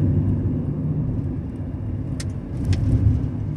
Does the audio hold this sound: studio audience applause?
no